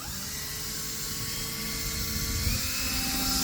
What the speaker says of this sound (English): We'll just start to drill that way.